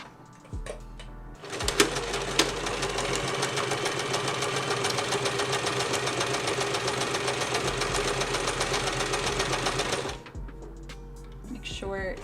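Sewing machine stitching along pressed lines on fabric, a loud steady whir lasting about eight seconds, with brief handling sounds before and after.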